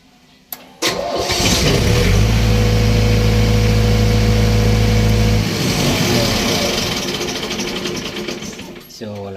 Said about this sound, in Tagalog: So pansinin nyo po ay madali siyang i-start kapag umi-start na yung makina.